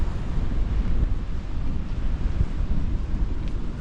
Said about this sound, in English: It's very, very, very windy today so far.